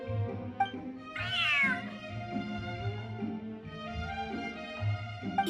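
A cat in the video game Feline Fortress Furrdyssey 3 lets out a clear, rising meow over soft game music and ambience, a single prominent call near the start with faint murmurs afterward.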